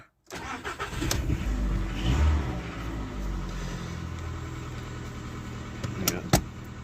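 A Skoda Fabia with an ABS fault starts up: a brief starter crank catches into a loud engine burst, then settles to a steady idle rumble, with a couple of sharp clicks near the end.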